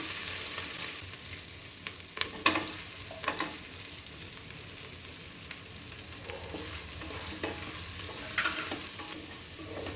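Ginger, garlic and green chili sauté in a pan for vegetable brinji rice, giving a steady close sizzle with a few sharp clacks of a stirring spoon scattered through it. No one speaks.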